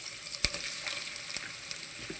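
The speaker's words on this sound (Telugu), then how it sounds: "ఆయిల్ హీట్ ఎక్కింది. కొద్దిగా ఉల్లిపాయలు వేసుకుంటున్నాను." Onions dropped into hot oil for a tuna fish curry, a steady close sizzle with a couple of sharp clicks from the pan.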